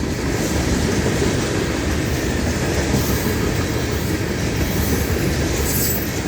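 A Florida East Coast Railway train rumbles past close by, a continuous loud roar of wheels on rail with faint clicking and light squeal throughout, with no voices.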